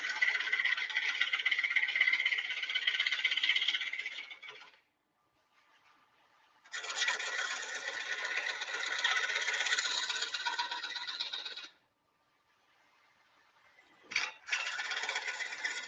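Red cedar spinning on a wood lathe at around 400–480 RPM, a steady scraping rattle with clicking as the tool cuts, running in long bursts that stop twice and resume, close and fairly loud.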